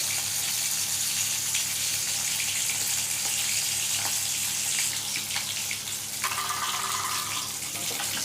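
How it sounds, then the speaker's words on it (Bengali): Fish is lightly fried in a pan for a sour tok curry with eggplant and cauliflower, producing a soft, continuous hiss and sizzle with no one talking. "খুব বেশি কড়া করবো না যেহেতু টক করবো ওই জন্য মাছটা অল্প ভাজবো"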